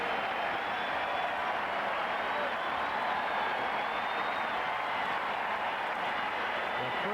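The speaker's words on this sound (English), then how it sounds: "Even Corretja applauds" Steady applause from a tennis crowd at the 1995 US Open, a dense, even wash of clapping that holds at moderate loudness throughout without breaks.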